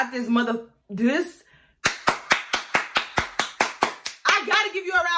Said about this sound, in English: I gotta give you a round of applause.